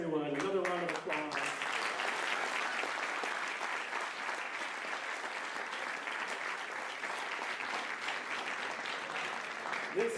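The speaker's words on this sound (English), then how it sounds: "Another round of applause." Sustained applause from an audience at a university design challenge showcase, a steady wash of clapping lasting about ten seconds at moderate distance.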